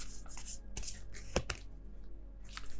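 Tarot cards being shuffled by hand, a few quick papery riffles and sharp slaps in short bursts with pauses between, close and fairly quiet, no voice.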